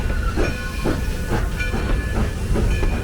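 Steam hisses steadily from the Black River Limited, a New Jersey excursion train of an Erie caboose and two coaches running between Ringoes and Flemington. Loud, close wheel clatter pulses rhythmically under the hiss.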